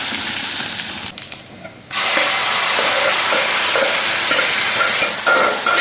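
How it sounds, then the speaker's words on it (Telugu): Spices tempered in hot oil for a dal made with thellagalijeru greens give a loud, steady sizzle and hiss, broken by a brief dip before the frying surges again close by. "తాలింపు పెడుతున్నాం"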